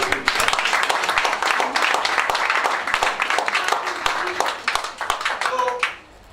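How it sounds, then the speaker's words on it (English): An audience breaks into dense, sustained applause after a speaker praises a law being scrapped. The clapping stays loud and continuous for about six seconds, then stops abruptly as a few tones sound. "it deserves a round of applause for that."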